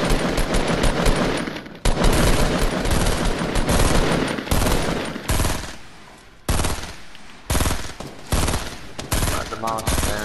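Sustained bursts of rapid automatic gunfire aimed at a monster in a shooter game, loud and close, broken by short pauses between volleys over several seconds.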